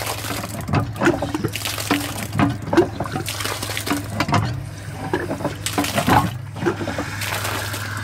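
Water sloshing and splashing in a vintage Burlington bell syphon cistern being flushed without a flush pipe, with a steady low hum beneath and repeated bursts of liquid movement, close and moderately loud.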